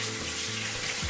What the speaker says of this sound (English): I'm gonna rinse this off, oil off real quick, because I'm gonna use this for the other ingredients